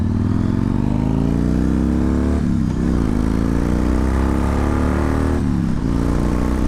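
A Yamaha XV1900 cruiser motorcycle engine while riding, a loud, steady low drone close by, dipping and climbing twice with gear changes.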